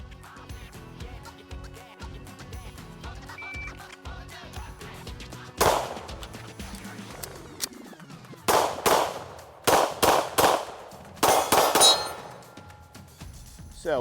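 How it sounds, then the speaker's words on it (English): Kimber 2K11 Pro pistol fired in quick bursts at USPSA steel targets, sharp cracks each followed by ringing metallic clangs, separated by a pause for a magazine reload, loud and close on an outdoor range. "I'm gonna do 1 reload, 2 more then in the center target, do 3 on the right target, and then 3 on our C-zone USPSA steel"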